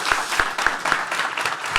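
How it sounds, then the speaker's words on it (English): An audience claps for a panel at the close of a talk on AI in game creation, a few distinct sharp claps standing out over a softer, steady patter of hands. "an applause for the great panel"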